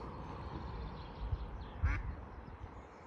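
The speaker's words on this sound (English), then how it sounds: "meet my little duck pal" A duck at Longlands Lake gives a couple of short quacks near the middle, fairly close, over a low steady outdoor rumble.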